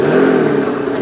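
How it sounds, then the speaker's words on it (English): A Daewoo car at a demolition derby doing a brief burnout, its engine revving hard in a loud, close, sustained roar with a rough mechanical edge. "A little bit of a burnout, that's good."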